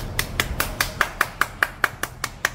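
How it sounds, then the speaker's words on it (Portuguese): Hands clap in a steady, even rhythm, with about a dozen crisp, close claps spaced roughly a fifth of a second apart and nothing else over them. "Palmas!"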